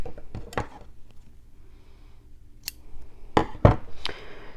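Scissors snipping through strips of jelly-roll quilting fabric: a few sharp close cuts at the start, a pause, then another cluster of crisp snips near the end, with faint background shuffling.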